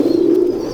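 Lal Pari pigeon cooing in a low, steady, throaty purr, close and fairly loud, a single sustained coo with no talking.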